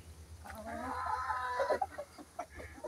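Rooster clucking repeatedly in a backyard chicken coop built from an old bird dog pen, close and fairly loud over a steady low hum, with a few short calls near the end.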